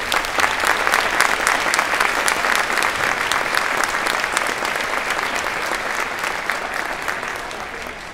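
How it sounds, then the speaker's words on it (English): An audience at a school band concert claps in loud, sustained applause that fades slightly toward the end, with no voice over it. "Let's give her a big round of applause"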